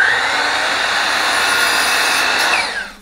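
A power saw cuts 1x2 boards with a loud, steady high-pitched whine that holds for nearly three seconds, then winds down at the end.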